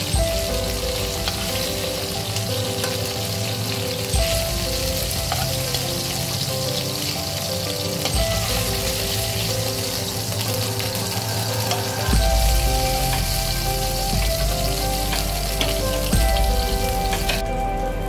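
Fish frying in hot oil for a malai fish curry, giving a steady, close, dense sizzle with crackling spatters that runs throughout, with no talking.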